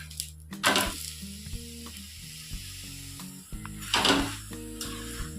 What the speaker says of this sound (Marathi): दोन्ही साईड छान खरपूस भाजून घेऊया.